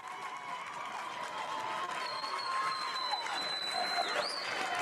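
A crowd at a men's college volleyball match between Erskine and Reinhardt cheers and applauds, a steady wash of clapping and noise from a distance with a few whistles and shouts rising above it.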